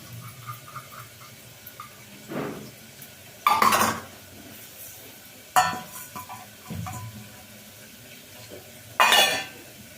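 Lentils and rice being rinsed together in a pot with water, giving a few separate bursts of swishing and clinking against the metal, near and fairly loud, with quieter stirring between them.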